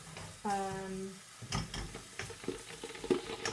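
Food browning in a hot pan gives a quiet, uneven sizzle with brief clinks and stirring scrapes, and a short voiced sound near the start.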